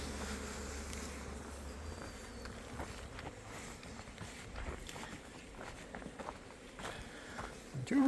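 Honey bees buzz steadily around the entrance of a beehive during an active foraging season, a soft continuous drone with a few louder fly-bys near the microphone and occasional light knocks.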